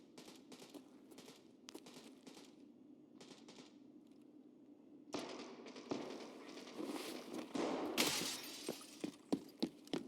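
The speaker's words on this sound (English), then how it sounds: "oh, shots fired" Gunfire in a survival video game, with a muffled run of rapid shots in the distance followed by louder, denser bursts and sharp cracks.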